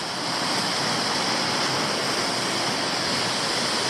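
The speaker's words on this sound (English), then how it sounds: "Even a little side cascade coming in over there." Water cascades steadily down a tiered waterfall at Toolona Creek in Queensland, a loud, close, continuous rushing roar with no breaks or voices.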